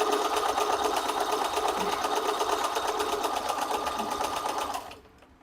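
A treadle sewing machine stitching fabric runs at a steady fast pace, its rapid mechanical clatter loud and even before stopping abruptly near the end.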